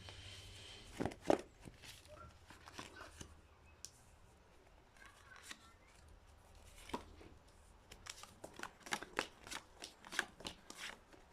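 Playing cards being shuffled and handled close by: quiet riffling bursts and snapping clicks, sparse at first, then quicker and busier near the end.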